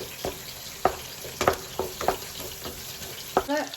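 Chicken frying in a pan with ginger, garlic and green chilli paste added, with a soft sizzle under a series of sharp clicks and scrapes from a spoon at irregular intervals.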